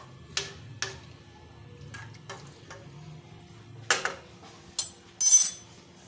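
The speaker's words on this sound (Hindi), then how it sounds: "चम्मच की मदद से इसको हमने हिला देना है" A metal spoon tapping and scraping inside a pot while stirring a banana face cream mixture, sharp clinks at irregular intervals over a quiet background, with no one speaking.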